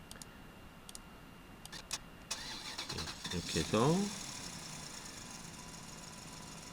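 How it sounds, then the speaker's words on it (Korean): Tractor engine sound effect in Cartoon Animator: a few faint clicks, then an engine cranks and starts with sputtering bursts before settling into a low idle, with a voice speaking briefly. "트랙터의 사운드가 만들어졌습니다."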